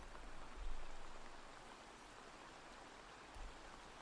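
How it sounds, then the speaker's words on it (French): Steady rain in Assassin's Creed Valhalla hisses softly and evenly throughout, a faint continuous wash of falling water with a couple of low thumps. "Ah, il pleut."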